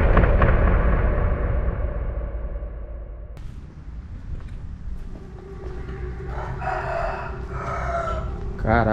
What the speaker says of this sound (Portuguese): tem galo aí